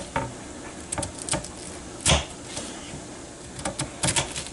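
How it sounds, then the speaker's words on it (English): A knife cuts slices from a head of cabbage on a cutting board, a series of irregular crisp chops and crunches close by, with short gaps between strokes. "So now what we do is we just start cutting slices."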